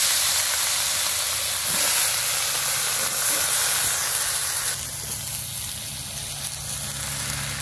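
Crab pieces seasoned with turmeric, salt and chili fry in hot oil, giving a loud, steady hiss and sizzle that runs throughout with no pauses. No one speaks.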